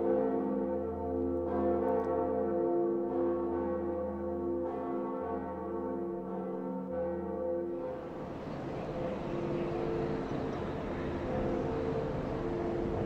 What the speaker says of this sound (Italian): Entrambe le campane suonate.